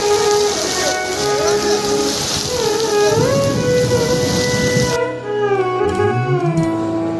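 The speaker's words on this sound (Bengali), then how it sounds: "এখন বৃষ্টিটা আগের তুলনায় অনেকটাই কম কিন্তু আকাশে অনেক বজ্রপাত হচ্ছে" Rain falling at the Lokenath Brahmachari ashram in Baradi during a storm, a dense, steady hiss of rainfall mixed with sustained tonal sounds like distant music or chanting, loud and close throughout.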